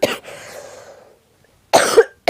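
A single sharp cough, close and fairly loud, then a short pause and a second burst of coughing, from a person who has a cough and a cold.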